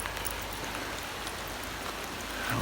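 Steady rain falls near a wooded trail by a river and an old covered bridge, a dense, even hiss that holds at the same level throughout with no talking.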